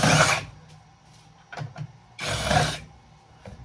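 Flathead screwdriver backing screws out of a breaker box: two loud bursts of close, gritty scraping and grinding, separated by a few brief clicks and knocks.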